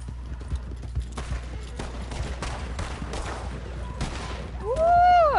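Gunfire in the Western video game Red Dead Online, several sharp broadband shots spread across the clip, followed near the end by a loud tonal whooshing or ricochet-like game effect.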